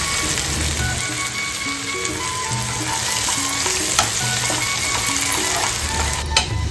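Onion, ginger-garlic paste and chilli frying hard in a pan, a loud, steady sizzle running throughout with occasional stirring scrapes and clinks, close up and without speech.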